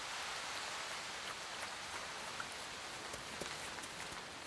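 Steady rain falls on an autumn forest, a dense even hiss of drops with scattered sharper patters on leaves and ground, soft and continuous with no voices.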